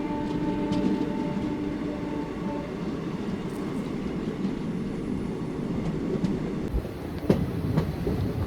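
A train rumbles steadily through Bauria railway station, heard from inside a sleeper compartment of the Chakradharpur Express, with continuous wheel and carriage noise, a few faint tones and clicks, and a brief louder knock near the end.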